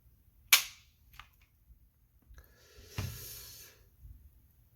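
Sig P320 fitted with a Custom Works flat trigger snaps as it is pulled during a trigger-weight measurement, giving one sharp, close click followed by quieter mechanical clicks and a short rattle. No one speaks.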